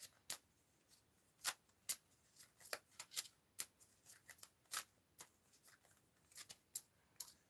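Oracle cards are shuffled and drawn, producing quick, crisp riffling and snapping bursts at irregular intervals, close and fairly quiet against a near-silent background with no talking.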